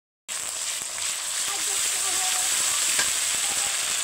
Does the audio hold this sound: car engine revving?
no